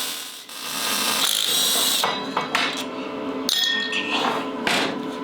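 Ratchet working 10mm bolts loose from the side cover of a Predator 212cc small engine, a steady close run of metallic clicking and scraping with a few sharper knocks, no talk.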